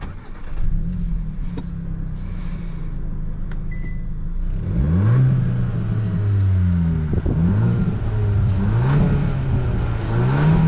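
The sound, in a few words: 2024 Hyundai Elantra N Line car driving and accelerating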